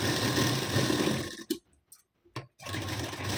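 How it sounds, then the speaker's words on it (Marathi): A sewing machine stitches a double katori blouse, running steadily, stopping briefly with a couple of short clicks, then starting up again. "ती आता इथं 1/2 इंचाची शिलाई यावर देऊन घ्यायची आहे"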